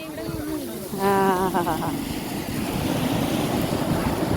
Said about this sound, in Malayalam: കണ്ണൻ്റെ പുറകിൽ കൂടെ കണ്ണൻ അറിയാതെ വന്നു കടൽ